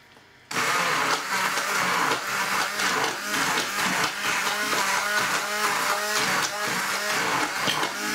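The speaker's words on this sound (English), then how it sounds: "you can use a handheld immersion blender and just puree it until it's really," After a short quiet start, a handheld immersion blender kicks in and whirs loudly and steadily, its pitch wobbling as it purees thick vichyssoise soup.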